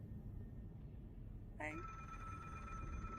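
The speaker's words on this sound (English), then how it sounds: "Oh, phone call." A telephone bell rings once midway with a bright trilling burst, then its tone lingers and rings on at moderate level over a low room murmur and background talk.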